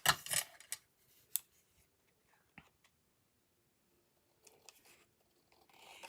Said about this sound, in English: I'm just going to cut this apart.